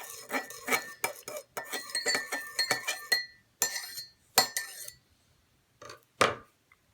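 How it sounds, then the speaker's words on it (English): Colorant being stirred in a small cup, rapid clinking of a utensil against the rim in bursts, then scattered single taps with quiet gaps between. "Stir it up."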